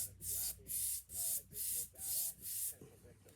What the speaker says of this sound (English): I take this cleaning stone, I go in a circular pattern